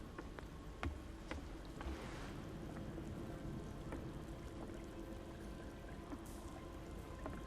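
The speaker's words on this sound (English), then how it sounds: "I heard something in the water. It was probably a wave" Soft water lapping and sloshing against a dock in the Call of Cthulhu video game, a steady low wash of small waves with light splashes, faint and continuous with no voices.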